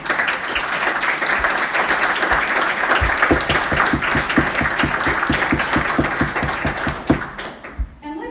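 A church congregation applauds its grounds, building and gardens volunteer teams, with sustained, dense clapping from many hands that carries on for several seconds before tapering off near the end.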